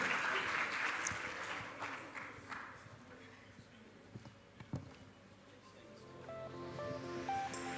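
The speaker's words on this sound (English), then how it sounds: "So they deserve a big round of applause for their trust in the CA community" Audience applause at an international conference of chartered accountants in Kuwait, a broad steady wash of clapping that fills the hall and fades slightly toward the end, with faint voices and a few louder claps mixed in.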